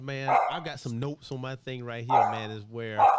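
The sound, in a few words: dog barking at doorbell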